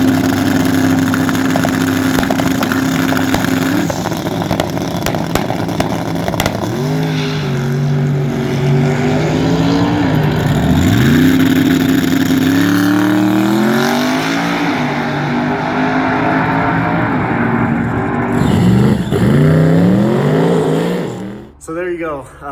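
Drag car launching off a trans brake for a pass at LS Fest West 2023: loud steady engine drone that climbs through repeated rising pitch sweeps as it pulls through gears, then cuts off near the end.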